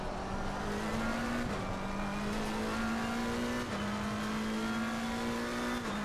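A race car engine in Assetto Corsa Competizione at Kyalami drones steadily, rising in pitch and dropping back with each gear change, loud and continuous with no talk.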